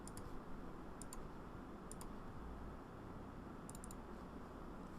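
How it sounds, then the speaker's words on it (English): A computer mouse double-clicks while drawing in CATIA CAD software, giving a few faint, crisp paired clicks spaced about a second apart over a quiet room hiss, with no speech. "I'm double clicking to stop,"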